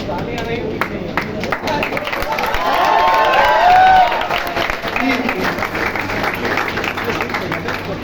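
Parents and students clap at a stethoscope and apron distribution ceremony for selected NEET 2023 students, a steady crowd applause that swells in the middle, mixed with a few voices and background chatter.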